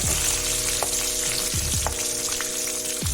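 Garlic frying in hot oil in a pan for a ridge gourd thoran, a loud continuous close sizzle and crackle with a steady low hum running underneath and no talk.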